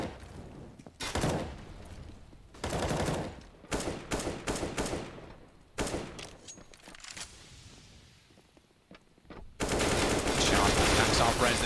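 Bursts of rifle fire in a Counter-Strike match on the Nuke map, several loud, sharp volleys separated by short gaps, ending in a sustained heavy stretch of shooting.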